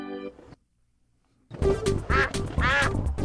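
Pato, the cartoon duck from Pocoyo, lets out a run of loud, close, nasal quacks in quick succession, each one distinct, after a short pause of silence and a brief tone.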